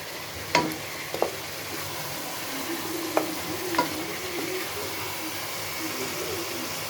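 Fish head being stirred and sautéed with spices in a pan, a soft steady sizzle with a few sharp scrapes and clinks of the spoon, close by and moderately quiet.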